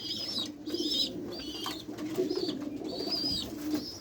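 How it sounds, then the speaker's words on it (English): Racer pigeons in a loft cooing steadily in a low, rolling murmur, with repeated high whistling squeaks every half second or so and some soft wing rustling, close by and continuous. "And these are the racer pigeon."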